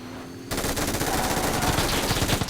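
Sustained automatic gunfire from PUBG New State Mobile, a mobile battle royale game; a quiet lull gives way to dense, rapid, loud bursts that continue steadily to the end.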